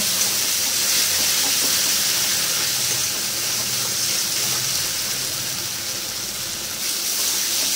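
Everest garam masala powder frying in a pan as a loud, continuous hiss, close and steady throughout with no talking and no distinct stirring strokes.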